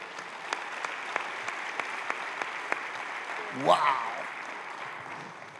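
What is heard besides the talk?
congregation applause at Christmas service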